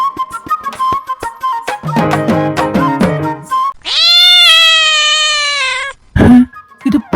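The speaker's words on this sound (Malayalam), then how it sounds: "ഇത് പൂച്ചയുടെ ശബ്ദമല്ലേ?" A cat meows loudly and close, with a drawn-out wail in the middle and several shorter mews around it, alone without speech.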